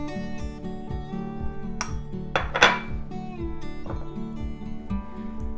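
A spoon clinks and scrapes against a pan as chopped dates are stirred into carrot halwa, with a few bright metallic knocks over a soft, steady tonal backdrop.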